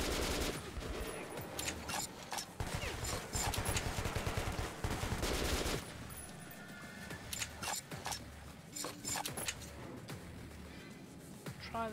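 Rapid bursts of gunfire from the Metro 2033 Redux video game, dense loud volleys with game sounds through the first half, then sparser sharp shots and clicks continuing.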